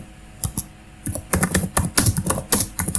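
Code being typed on a computer keyboard, with quick irregular bursts of close key clicks and short pauses between the runs of strokes.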